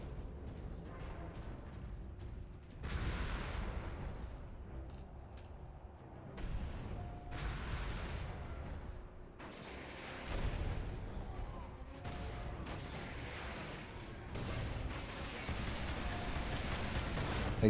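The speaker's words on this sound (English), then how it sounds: "they're using fireworks and flares" Fireworks and flares burst in the Warhammer 40K: Space Marine video game, a run of loud booming blasts and crackling bursts spread through the clip amid battle noise.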